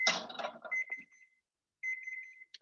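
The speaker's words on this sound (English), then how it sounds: "Let me clear my timer." A kitchen timer alarm goes off during a vegan chiles rellenos cooking class, with two bursts of rapid, bright electronic beeps separated by a pause, following some brief kitchen clatter at the start.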